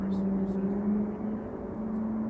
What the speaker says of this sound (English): I think it's these airplane engines that we are hearing.